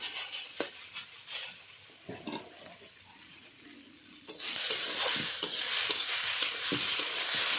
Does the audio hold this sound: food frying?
yes